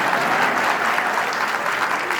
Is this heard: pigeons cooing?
no